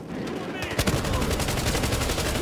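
Rapid automatic gunfire in the video game Battlefield Hardline during a multiplayer match, a dense loud stream of shots opening with a brief burst and then continuing steadily.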